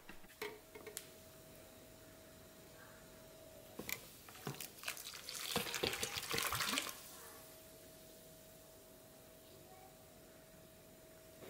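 Thermos being washed with cleaning solution and water, quiet splashing and rinsing bursts clustered mid-way, with a steady faint hum and sparse clicks before and after.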